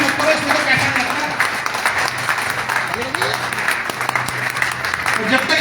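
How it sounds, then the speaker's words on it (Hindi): A seminar crowd in Bihar gives sustained, dense applause that fills the hall, with scattered voices mixed in. "सर जोरदार तालियां बोला है, तालियों में तो कंजूसी मत करो"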